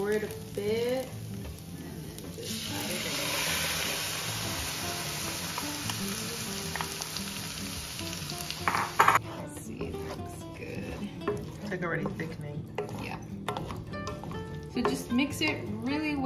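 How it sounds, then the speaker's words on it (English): Glaze stirred into crispy fried chicken in a hot pan: continuous loud sizzling and frying with scraping stir strokes, a person talking over it. "Mix it really well, get everything coated, and we're gonna let it cook there for 2 to 3 minutes"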